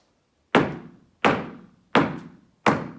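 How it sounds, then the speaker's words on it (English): Four sharp, solid flamenco golpe stamps with the whole foot on a hard floor, evenly spaced about two-thirds of a second apart, each with a short decaying thud. "Okay, so it's a whole stamp with your foot."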